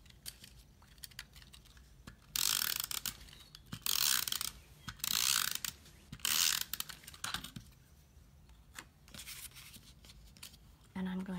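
A snail adhesive tape runner is pressed along cardstock layers for a stamped bouquet card, producing several short bursts of close clicking, ratcheting rolls separated by quiet pauses.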